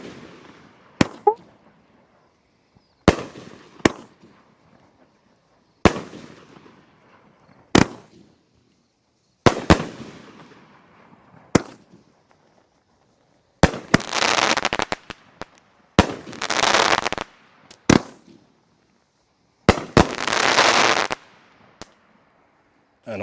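Fireworks go off one after another, sharp loud bangs with decaying tails, then bursts of dense crackling that run for a second or two each, close and loud across a backyard display.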